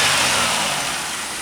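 A Pontiac Grand Prix engine with 86,000 miles runs at a steady idle, a smooth broadband hum close by that eases slightly in loudness, with no talking.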